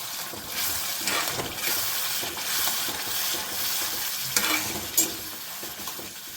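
Kandha bachali curry is stirred in a sizzling pan, with a continuous frying hiss under scraping spoon strokes and a couple of clinks against the metal.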